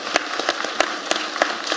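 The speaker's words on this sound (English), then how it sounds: "And a round of applause, please, for members of the team." Scattered hand claps in a loose, thin rhythm, a few people applauding briefly.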